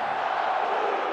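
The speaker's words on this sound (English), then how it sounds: "a banner raising, and a crowd roaring as the Blues celebrated their first ever Stanley Cup" At a Stanley Cup championship banner raising for the Blues at a hockey arena, a large crowd roars in one steady, loud, continuous wall of cheering with no break.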